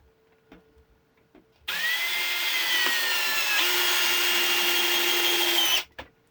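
A cheap Viwko cordless drill in screwdriver mode, first gear, driving a screw: a steady high motor whine that runs for about four seconds and cuts off abruptly, preceded by a few small clicks.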